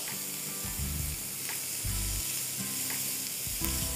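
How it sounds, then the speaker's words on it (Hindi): Vegetables sizzle steadily in a pan of spicy honey ginger sauce, a continuous close frying hiss broken by a few stirring scrapes, with no talking. "ये इस तरह सिजल हो जाए, आवाज़ आ जाए, थोड़ी सी शाइनी सी सब्ज़ी"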